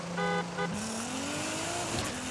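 A 900 to 1,400 horsepower roll race car launching in Forza Horizon 5, with short horn-like honk tones, then the engine note climbing steadily as it accelerates hard, loud and close, with no talking.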